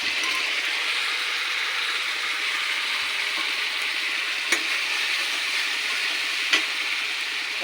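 Soaked whole spices hit a hot pan with a steady, close sizzle of frying, a spoon scraping and stirring through it with a couple of sharp clicks, no voices.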